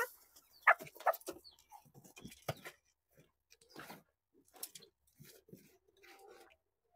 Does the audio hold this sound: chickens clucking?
yes